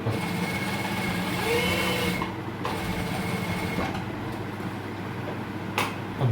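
Sewing machine running steadily while stitching a double seam down a kameez button placket, a continuous close mechanical whir with a slight pause near the end.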